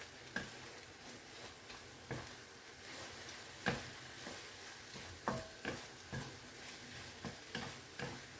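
Fried rice (sinangag) being stirred in a frying pan, a soft steady sizzle broken by repeated scraping clacks of the spatula against the pan at an uneven rhythm, close and moderately quiet with no voices.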